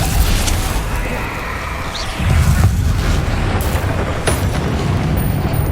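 Spell explosions from Confringo and Bombarda in the Hogwarts Legacy video game, a dense run of loud booming blasts with a heavier burst midway and continuous crashing game noise throughout.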